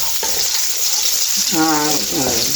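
Chopped onion hits hot oil in a pan while cooking a cauliflower dish, giving a constant loud hissing sizzle, with a brief voice-like tone partway through.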